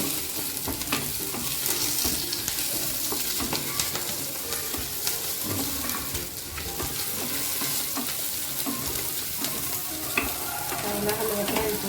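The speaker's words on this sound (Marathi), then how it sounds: "यामध्ये लसूण आणि जे आलं आहे ते घालूया आणि ते सुद्धा आपण यामध्ये चांगलं परतून घेऊ" Garlic and ginger sauté in hot oil with browned onion for a Khandeshi sev bhaji masala, giving a steady, close sizzle with stirring scrapes and clinks throughout and no talking.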